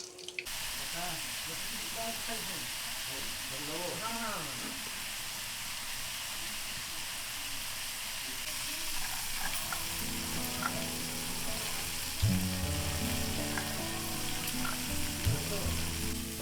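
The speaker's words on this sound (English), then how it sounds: "she begins cooking the vegetables and sets the rice boiling in a clay" Vegetables frying in a pan alongside rice boiling in a clay pot, a steady close sizzle throughout with occasional stirring clinks and scrapes, while someone speaks in the background at times.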